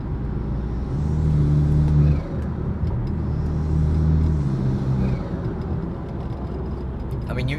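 A BMW B48 four-cylinder engine with an MST intake revs in repeated swells, its drone rising and falling twice with a loud intake whoosh, close by and steady, with faint talk at the end.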